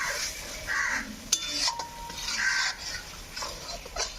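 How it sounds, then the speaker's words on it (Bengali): Ginger-garlic spice paste fries and is stirred in a pan for chicken kosha, with soft sizzling under intermittent scraping strokes and a few sharp utensil clinks against the pan, close and moderately loud. "মশলাটা ভালো করে কষে নেবো"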